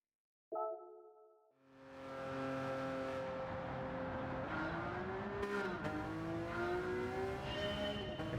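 A Ferrari Enzo engine in Gran Turismo 7 starts with a sharp blip, then builds into a steady, loud high-revving whine that climbs through gear changes, accompanied by a faint tire squeal.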